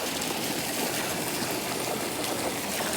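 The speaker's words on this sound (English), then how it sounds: "I begin pouring this chlorine into the pool." Diluted chlorine pours into a swimming pool, a steady rushing and trickling wash of liquid close by with a constant hiss.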